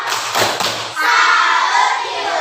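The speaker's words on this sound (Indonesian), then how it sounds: "Kalau gitu boleh dikasih tepuk salutnya?" Elementary school fifth-grade class doing a rhythmic group clap, a few sharp claps landing together near the start, followed by a burst of children's voices chanting over a humming room.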